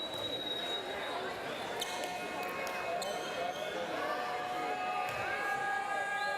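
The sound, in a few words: restless crowd at basketball game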